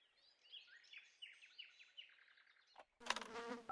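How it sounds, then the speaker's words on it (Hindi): Houseflies buzz inside a cartoon house in a string of quick, faint, darting drones, each rising and falling, before an abrupt cut to louder, brighter sound at the end. "मेरे घर में इतनी मक्खियाँ क्यों?"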